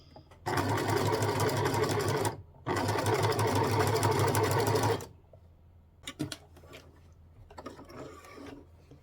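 A sewing machine stitches satin ribbon for homemade underwear, running in two loud steady bursts with a brief pause between for a short reverse, then falling to soft handling clicks and rustles.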